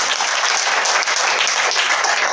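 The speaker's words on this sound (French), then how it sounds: "Acclame le Seigneur sur toi." A church congregation applauds, dense sustained clapping from many hands filling the room loudly and evenly throughout.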